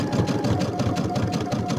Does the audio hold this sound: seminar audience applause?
no